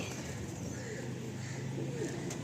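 Soft, low cooing of Madrasi pigeons rolls on continuously, faint and a little distant against a quiet background hum.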